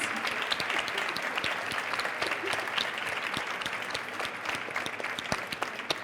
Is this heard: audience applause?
yes